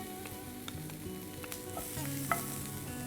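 Garlic sautéing in a pan for a red-sauce spaghetti before peppers, baby corn, carrots and corn go in, a quiet, even sizzle with a few soft stirring taps, close by and uninterrupted.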